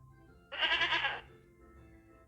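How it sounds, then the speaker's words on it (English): An Anglo-Nubian goat, a UK breed, gives a single loud, wavering bleat lasting under a second, alone against a quiet background. "The Anglo-Nubian goat came from the UK."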